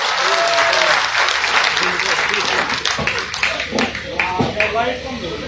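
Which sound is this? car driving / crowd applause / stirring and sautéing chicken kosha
crowd applause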